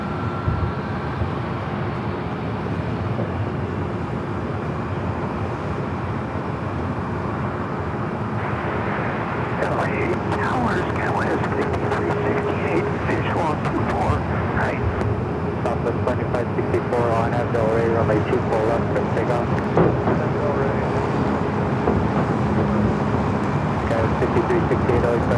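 A Southwest Boeing 737 MAX 8 departs LAX for Sacramento with a steady, broad jet roar that swells and grows rougher about a third of the way in, then holds at a loud level to the end.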